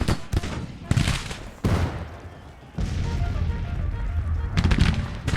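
Massed musket and rifle volleys crackle in bursts from a Civil War battle in the strategy game Grand Tactician, with Confederate forces under fire, dense and loud with brief lulls between waves.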